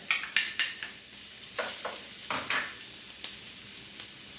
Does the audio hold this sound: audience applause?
no